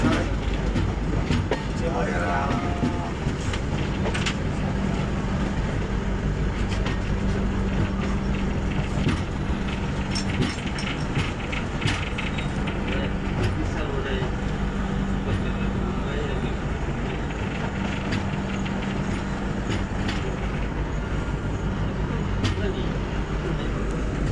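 The Gitanjali Express runs on the rails with a continuous loud rumble and rattle heard from inside the train. Faint clicks and brief voices come and go under the noise.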